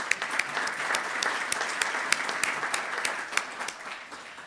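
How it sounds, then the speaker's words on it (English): An audience at a clean energy legislative preview event in Minnesota gives a round of applause, dense and steady clapping close by that gradually tapers off toward the end, with no speech over it. "So we'll give her a quick round of applause as well."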